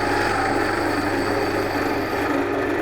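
A skew chisel taking a planing cut on spinning wood on a lathe, producing a steady close shaving hiss over the continuous hum of the machine.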